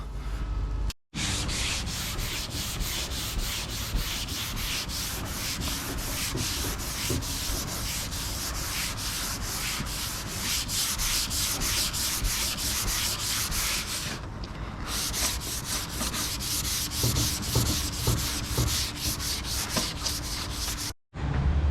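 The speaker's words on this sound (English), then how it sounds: "We got it all sanded down, blocked up." Steady, continuous rasp of a sanding block worked back and forth over a car body panel coated in guide coat, close and loud for the whole stretch with two brief pauses and no talking.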